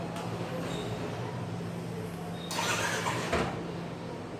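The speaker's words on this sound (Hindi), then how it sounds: "बाइक अंदर करने के लिए अपना दरवाज़ा खोल रहे थे।" A door being opened to bring a bike inside, a sliding rattle midway through over a constant background hum, ending with a sharp clunk.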